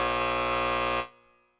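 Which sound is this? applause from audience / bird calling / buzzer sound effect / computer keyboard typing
buzzer sound effect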